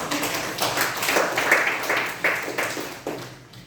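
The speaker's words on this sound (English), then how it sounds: "Give them another round of applause." Applause from a Toastmasters club audience, moderately loud and steady, with a few sharper individual claps standing out before it tapers slightly toward the end.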